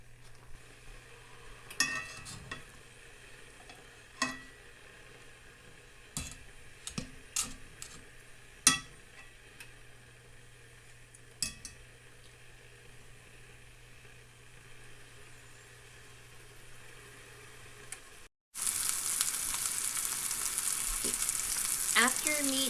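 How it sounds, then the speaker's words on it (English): Pot roast searing in a hot pan to brown its sides, with scattered soft clicks and knocks at first, then a loud, steady sizzle that starts abruptly near the end and fills the rest. "put your roast in, and we're going to brown it on both sides first"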